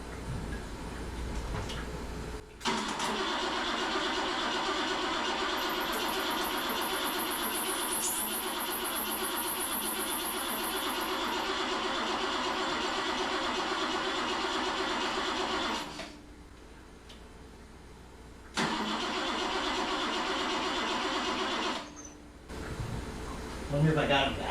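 A small engine cranks and runs in a steady, continuous mechanical drone with its fuel pump powered by a 20-volt battery, cutting out briefly and restarting, then fading.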